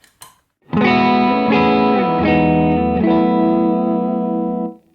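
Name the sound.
electric guitar with overdrive pedal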